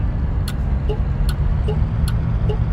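A steady low engine hum from a Ford Mustang in a truck-driving video game drones throughout, with a regular clicking tick of the turn signal relay repeating several times over it.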